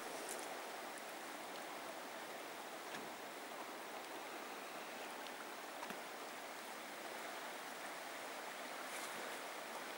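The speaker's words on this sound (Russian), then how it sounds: "Это огромный разбушевавшийся поток." The swollen yellow Zeya river near the Stanovoy Range rushes past as a huge torrent, a steady dense roar of water with no break, close and loud throughout.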